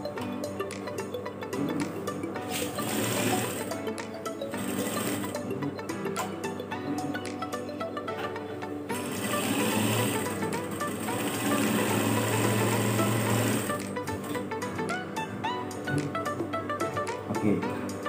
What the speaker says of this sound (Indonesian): Nah, sekarang kita jahit.